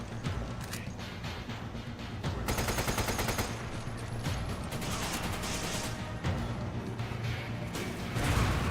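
Gunfire aimed at the player in Resident Evil 5, a dense run of shots and bursts that keeps up loudly for the whole stretch, mixed with crashes and mechanical clatter.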